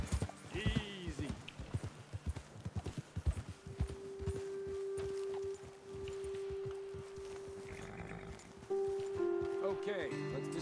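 Rhythmic clip-clop of horse hooves walking on ground in the video game Red Dead Redemption 2, close and steady, with someone talking over them and a low tonal hum in the background.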